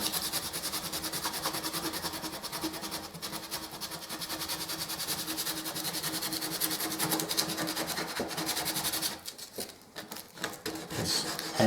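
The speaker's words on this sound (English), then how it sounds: "So with warm 120 grit, just go around these edges, following the grain." 120 grit sandpaper is rubbed along the edges of wooden parts for a Victorian rim lock, a close, continuous scratchy rasp that breaks into shorter strokes near the end.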